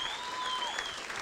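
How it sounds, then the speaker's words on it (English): A comedy club crowd applauds in a dense, sustained burst of clapping that fills the room, lasting the whole moment without any break. "You guys give yourselves a hand."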